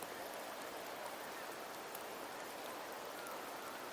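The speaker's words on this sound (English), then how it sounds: "The rains in Septimont never seem eager to leave this season." Rain falling in the video game Wuthering Waves, a steady, faint hiss of drops that runs unbroken and even, with no voices over it.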